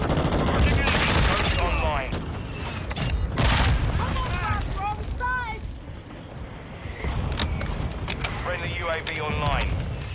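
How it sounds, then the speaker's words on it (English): Mortar strike explosions in Black Ops 6 multiplayer arrive as bursts of booming blasts and crackling impacts, with spoken game callouts over them. "Mortar strike on the way."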